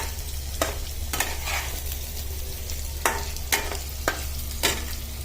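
Potatoes with dill and spinach cooking in a pan over a low gas flame, a soft steady sizzle with a low hum beneath and several sharp scraping stirs of a spoon at irregular intervals.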